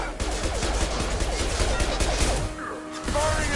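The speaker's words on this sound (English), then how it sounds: "Firing an impact shot!" A rapid volley of impact shots from a weapon in Mass Effect 2 cracks and thuds in dense bursts, with a short pause before more firing resumes.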